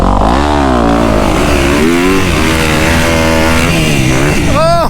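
A dirt bike ploughing through deep sand revs hard and loud close by. Its engine pitch swoops up and down repeatedly, with a second bike's rising whine near the end.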